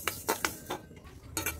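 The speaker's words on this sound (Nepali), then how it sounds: "धनिया चाहिँ घरमै अलिकति थियो थोरै, त्यही भए पनि म अचारमा लगाइदिनु पर्यो भनेर यहाँ भुट्दैछु साथीहरु।" Coriander seeds are dry-roasted in a pan for mango pickle, heard as about six short, close metallic clinks and scrapes of a spoon stirring against the pan in uneven bursts, with no voices.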